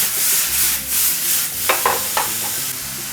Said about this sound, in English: Stir fry mushrooms with a little bit of soy sauce.